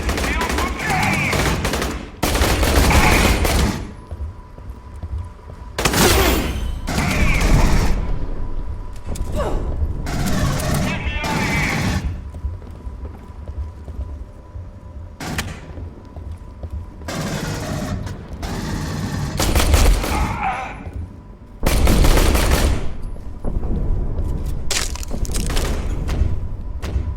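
Dense gunfire rages through a video game battle on Sulaco, with bursts of automatic fire, heavy thumps and booms coming in loud waves, separated by short lulls.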